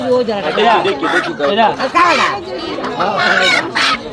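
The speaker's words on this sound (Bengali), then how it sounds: "দেশি মুরগি আনছেন দেশি মুরগি" Native chickens clucking and crowing nearby, loud and busy, mixed with people talking over the flock at a chicken market.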